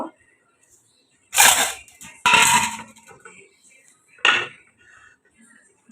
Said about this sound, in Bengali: শাক কাটছি, কেমন করে শাক কাটে